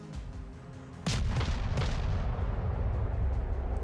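Warship guns fire in the naval battle game World of Warships, one heavy boom about a second in followed by a lower secondary blast and a long, loud rumbling roll that fills the rest of the moment.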